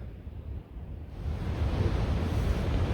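A rushing mountain river on the trek from Iladanda toward Olangchung Gola roars as a broad, steady wash of water noise with some wind buffeting, rising louder after the first second, no voices.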